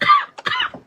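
One person gives a short, harsh cough in two quick bursts, close and loud, with no talking over it.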